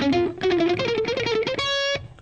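Distorted electric guitar in a neoclassical shred style plays the opening of Mozart's Turkish March as a quick run of clipped staccato notes. It finishes on one sustained, ringing note that cuts off sharply, with no voice.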